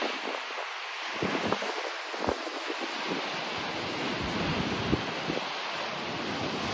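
Ocean waves breaking in the bay at Imsouane, Morocco, a long surf break, heard as a steady broadband wash of surf with wind noise buffeting the microphone and a few low rumbling thumps, no voices.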